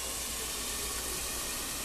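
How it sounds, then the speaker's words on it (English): Water poured into a hot pan of cooking chicken, with a lid ready, sends up a steady, even hiss of steam, faint and continuous with no voices. "Pour some water in there."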